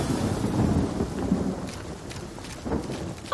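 Steady rain pours while deep thunder rumbles through it in the game Divinity: Original Sin Enhanced Edition, a continuous stormy roar with low rolling swells.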